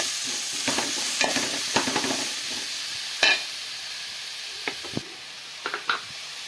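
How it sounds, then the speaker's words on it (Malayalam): Ingredients for a crab roast sauté in a hot pan: a constant sizzle under repeated scraping and clattering strokes of stirring, close and moderately loud, with no talking. "നന്നായിട്ടൊന്ന് വഴറ്റാം"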